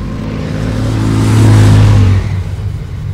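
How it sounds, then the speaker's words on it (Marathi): Motorbike speeding along a highway at dusk, its engine droning loudly and swelling as it passes close, then dropping away into a fading rumble. "त्या हायवेवरून त्यांची बाईक वेगाने चालली होती।"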